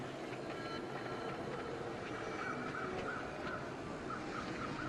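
Crows caw in short repeated calls over a steady wind-like ambience in the survival video game The Long Dark, the calls faint and spaced out over a continuous noisy background.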